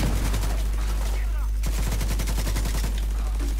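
Rapid automatic gunfire from a weapon in the video game The Division 2, a loud, continuous burst of closely spaced shots, briefly pausing before another sustained stream, over a constant low game hum.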